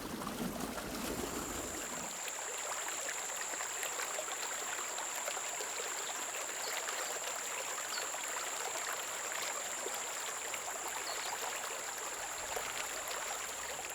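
Water flows continuously through an irrigation channel in an Omani hamlet, a steady close rushing trickle with a faint high whine over it and no voices.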